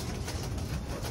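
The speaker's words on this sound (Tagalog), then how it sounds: "Mukhang gutom na yung mga ibon namin para." Pigeons in a coop give a steady, close murmur of soft cooing that fills the space without pause.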